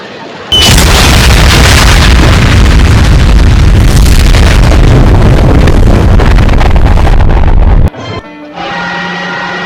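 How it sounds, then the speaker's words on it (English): A sitcom kitchen mishap with a pot of grits exploding gives a loud, sustained roaring burst lasting about seven seconds, then an abrupt cutoff into a quieter hum. "It's my grits exploding."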